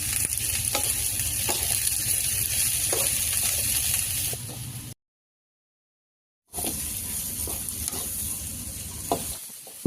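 Oil heating in a pan for North Karnataka style masali khara sizzles with a steady, close crackle, broken by a brief gap before the frying noise returns with a few sharp clicks.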